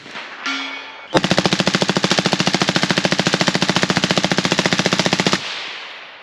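A firearm fitted with a B&T Vers36 modular multi-caliber suppressor fires one long, rapid full-auto burst of evenly spaced shots for about four seconds, loud and close, then stops.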